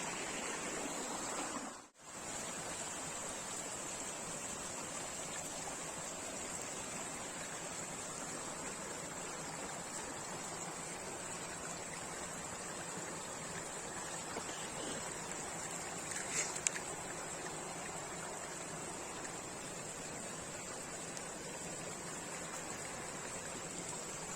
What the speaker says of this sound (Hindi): छोटी नदी जो कि साइड से आवाज़ कर रही है।